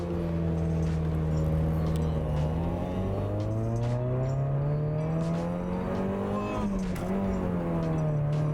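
Porsche speeding along a Thai highway, its engine loud and close with rising and falling revs through gear changes, heard continuously from nearby traffic.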